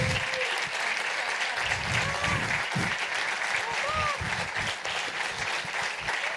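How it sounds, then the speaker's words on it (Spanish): Sustained applause from a festival audience rolls on without a break, with voices talking over the clapping throughout. "Que te lleves también un aplauso."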